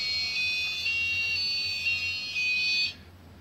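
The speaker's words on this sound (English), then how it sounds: "we've had this alarm going on our computer for a few days now" A desktop computer's internal alarm sounds as a steady high-pitched electronic tone with slight wavering while the machine shuts down, lasting about three seconds before stopping abruptly, close and fairly quiet over faint hum.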